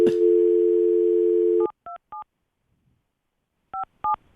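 A steady telephone dial tone plays, then stops. Short, paired keypad beeps follow in two separate bursts, clear and close.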